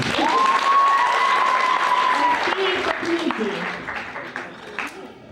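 Steady applause from a school audience at a 2009 gymnasium students' talent show, dense and continuous, with a sustained whistling tone over the first couple of seconds before the clapping gradually thins.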